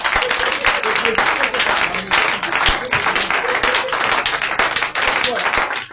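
Audience at a French-language prophetic conference for Yom Kippur applauds and cheers for Jesus Christ, steady dense clapping filling the whole stretch at close, loud level with voices mixed into the crowd noise.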